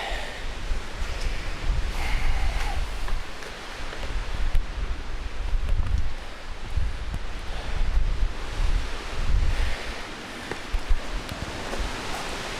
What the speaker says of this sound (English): you can hear the wind just whipping